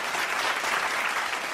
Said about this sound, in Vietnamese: Vỗ tay cho nhà gái luôn ạ.